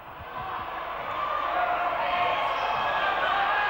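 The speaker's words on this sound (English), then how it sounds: "Noise in the Bull pit, deafening. Crowd's right behind the Bulls now." Basketball crowd roaring in the Bull pit, a sustained deafening wash of cheering and shouting that swells louder after the first second and holds, with no distinct words.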